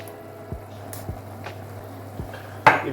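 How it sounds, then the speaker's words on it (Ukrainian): Spoon scraping and tapping in a pan while ground meat filling for lasagna, seasoned with salt and pepper, is stirred, with a few soft knocks, faint squishing and a low sizzle underneath, no voices. "все це добре перемішуємо"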